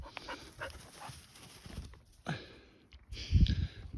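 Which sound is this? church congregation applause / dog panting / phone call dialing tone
dog panting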